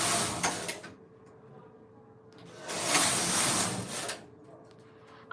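Silver Reed knitting machine weaving a two-yarn pattern, two loud rasping carriage passes with a sliding mechanical whir separated by a quiet pause, ending in a sharp clack, close up.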